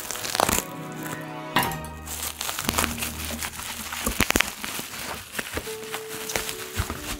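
Paper and packaging of a gold gift box crinkle and crack as it is opened one-handed, with close, irregular crumpling bursts and tearing, plus a few tonal knocks in between.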